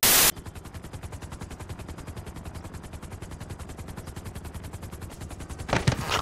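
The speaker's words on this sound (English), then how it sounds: "I can shoot these people off the bike." Rapid, sustained automatic gunfire in GTA rattles continuously for several seconds, loud and dense with no voices over it, ending with a brief louder burst.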